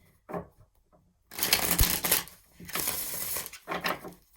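A Brown Girl Tarot deck is shuffled by hand close up, bursts of rapid papery riffling and card slaps after a brief quiet start, with short pauses between passes.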